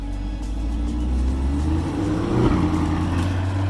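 A C8 Corvette pulls away around a building, its engine rising briefly over a low rumbling drone before fading.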